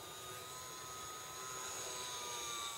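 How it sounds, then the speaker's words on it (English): Small E-flite UMX Carbon Cub model airplane flying outdoors on a windy day, a steady faint motor whine held under broadband wind noise throughout, with no talking. "It's a nice little airplane."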